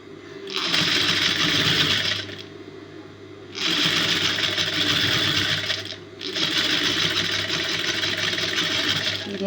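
A sewing machine stitches the shoulder seam of a blouse in three steady, loud runs, each lasting a couple of seconds, with short pauses between them and no talk.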